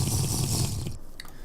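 Water being collected in the TerraFirmaCraft game, a steady rushing, splashing pour that fills most of the moment before cutting off, followed by a brief soft drip.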